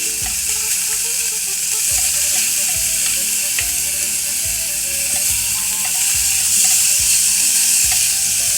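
Garlic sizzles steadily in a hot pan, a dense continuous frying hiss with faint scraping clicks from stirring now and then, and no voices.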